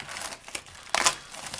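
Plastic wrapping on a retail box of 2022-23 Upper Deck Series 1 hockey cards being cut and torn open, with soft crinkling that builds into a louder burst of tearing and rustling near the end.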